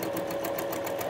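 A sewing machine stitches quilt sashing blocks, a quick steady whirring rhythm of needle strokes, close and continuous for about a second.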